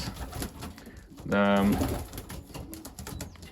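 Young racing pigeons at their loft, just starting to molt out of their first feathers, give a short close coo in the middle of a steady murmur of birds and loft noise.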